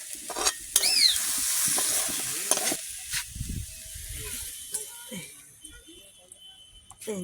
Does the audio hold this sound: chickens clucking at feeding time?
no